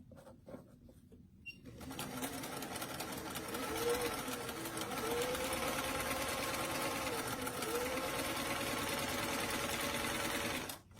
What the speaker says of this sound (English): we're sewing the back section to the dress front section at the side seams